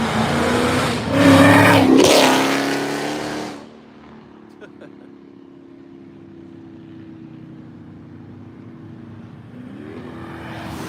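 A 1971 Grand Prix revs loudly at the Woodward Dream Cruise, two sharp throttle blips in the first few seconds, then a quiet idle with light background noise.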